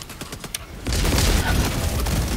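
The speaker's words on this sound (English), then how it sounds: "The turret just turned around and fucking killed everybody." A turret in Helldivers 2 opens fire, a dense, loud burst of rapid booming shots rolling together after a few scattered faint clicks.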